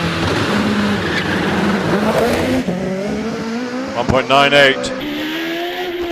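A 4-litre Judd-engined race car on a hill climb run at Prescott, its engine loud and steady with a sharp rising burst near the end, under a commentator's continuous talk.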